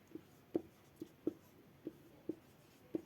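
Chalk or marker writing on a board during a physics lesson: sharp, faint taps and short strokes in an irregular rhythm, about seven distinct marks, with no voice over them.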